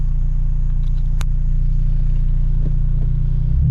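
An Acura RSX with a newly replaced stock shifter box drives along a street, its engine a steady low rumble with road noise, close and continuous, with a few faint clicks and clatters over the drone.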